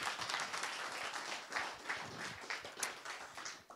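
Scattered hand clapping from a modest audience at an evening science-outreach event on the environment, fairly quiet and uneven, with individual claps standing out in loose rhythm.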